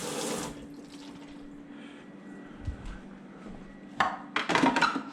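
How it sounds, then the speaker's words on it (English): Hot water running from a coffee machine into its removable water tray as it is rinsed: a soft, steady splashing that swells into louder gushing bursts near the end, with no voices. "A little hot water, rinse it out."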